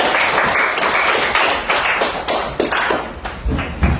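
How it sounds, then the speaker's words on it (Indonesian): Students in a classroom clap for a classmate, a dense burst of hand claps with sharp individual slaps standing out, loud and close, tapering slightly toward the end. "Tepuk tangan dulu buat Yasmin."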